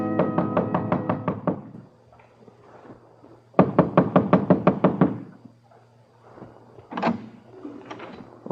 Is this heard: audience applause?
no